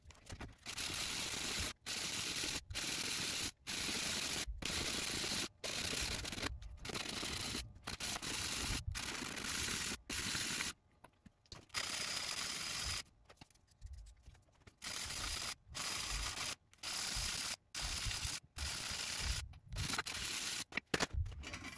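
Sanding the flat edges of a metal jewelry hollow form, a loud raspy scraping in regular back-and-forth strokes separated by short pauses, close up and with no voices.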